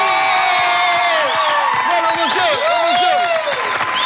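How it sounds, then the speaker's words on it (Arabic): A studio audience applauds and cheers to welcome guest Bassam Al-Hamra, a dense patter of clapping mixed with whoops and shouts that stays loud throughout. "روحي تصفيقة كبيرة وترحاب خاص بسام الحمراء"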